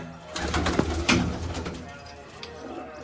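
Pigeons coo softly at close range, a few low throaty calls over background rustling and faint movement.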